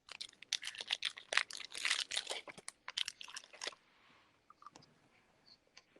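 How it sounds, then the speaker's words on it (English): Someone chewing a Mounds candy bar close to the microphone, a burst of loud crunchy bites and mouth clicks that fades into softer, sparse chewing noises. "Is someone chewing something?"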